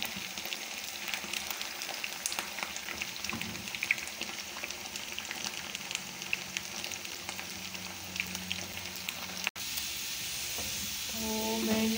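Food frying in a home kitchen pan while tea is made, a steady crackling sizzle that holds close and continuous for the whole stretch, briefly cutting out near the end before resuming.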